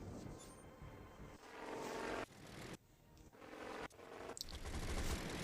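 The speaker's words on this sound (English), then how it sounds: "That's a BN2. A B-5N2. One of the torpedo bombers." A B5N2 torpedo bomber in a Pearl Harbor attack scene, a loud sustained propeller engine drone that swells and cuts in sections, with bursts of machine-gun fire and no speech.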